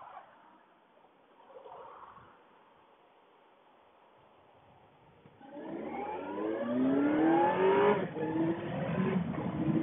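A car swinging through a U-turn at a traffic light near Snoqualmie Falls: quiet idling at first, then engine noise rising loudly about halfway through as it accelerates out of the turn, building to a steady strong drone.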